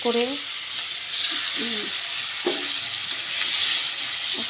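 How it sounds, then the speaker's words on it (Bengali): Large pieces of pangas fish fry in hot oil, a dense loud sizzle that surges as the fish goes in, with a person's voice murmuring faintly underneath. "এরপর দিয়ে দেবো মাছটা ভাজতে থাকবো"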